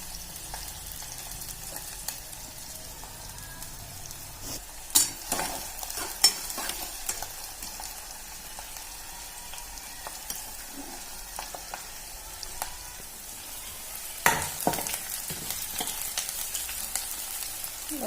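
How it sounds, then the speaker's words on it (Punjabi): Onions frying in a tempering for mustard greens saag, with a soft steady sizzle and a spoon stirring and scraping the pan in scattered clanks and knocks at close range. "ਕੱਲੇ ਪਿਆਜ਼ ਦਾ ਤੜਕਾ ਸਾਗ ਨੂੰ"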